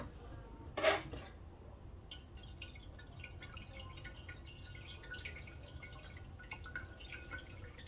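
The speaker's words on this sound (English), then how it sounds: "little teeny bit at a time, and just let it drain and filter up" Bone broth dripping through a strainer into a pot, soft close drips and a faint trickle under kitchen quiet, with one louder splash or clink near the start.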